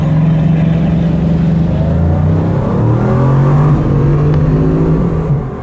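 A 1,500-horsepower Bugatti Chiron accelerates hard down a 4.8-kilometre runway, its engine droning loud and close with rising, shifting tones and no speech.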